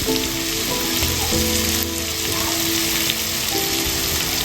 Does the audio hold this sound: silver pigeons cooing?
no